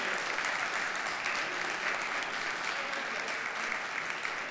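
Audience applause for a singer at a tango show, a steady, dense wash of clapping from a full crowd that runs loud and unbroken throughout.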